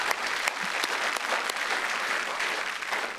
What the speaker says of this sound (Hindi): जोरदार तालियां पवन आगरे के लिए